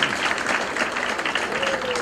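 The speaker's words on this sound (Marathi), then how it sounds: "जोरदार टाळ्या त्यांच्यासाठी." Audience applause at a self-redevelopment housing project event, a dense steady clapping from a crowd lasting the whole short stretch.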